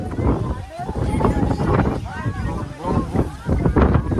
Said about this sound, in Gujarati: પવન કેટલો મસ્ત છે અહીંયા